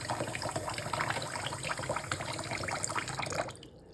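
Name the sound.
manually rinsing instruments under running water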